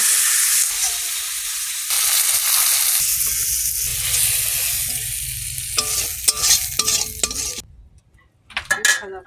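Fish heads, for a rupchanda fish curry with mustard, fry in hot oil in a pan, giving a loud, steady sizzle with scraping stirs and clinks of utensils. Near the end it cuts off into quiet, followed by a few short clatters.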